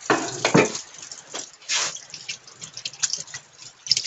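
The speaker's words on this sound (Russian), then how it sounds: "помоет руку от перца и от свернувшейся крови" Water runs from a tap over a hand, washing off red pepper and clotted blood, with close splashing bursts and dripping that swell and fade irregularly.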